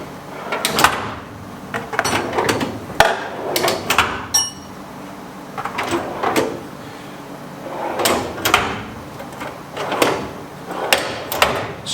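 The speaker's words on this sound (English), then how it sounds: "Each of these drawers moves smoothly and closes quickly." Drawers on a gloss red Husky 36-inch, 12-drawer steel tool chest and cabinet combo slide open and shut repeatedly, with a steady series of close, crisp rolling slides and sharp closing clacks and no talking.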